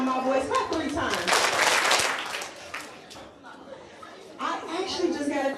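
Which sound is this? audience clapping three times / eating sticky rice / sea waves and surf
audience clapping three times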